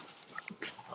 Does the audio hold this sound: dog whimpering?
yes